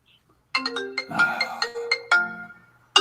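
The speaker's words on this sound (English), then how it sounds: "Guess what? I got a phone call." A phone rings with an incoming call, a melodic ringtone of bright tonal bursts that starts about half a second in, repeats in a steady pattern, then stops and briefly restarts at the end. It is close and clear with no talking.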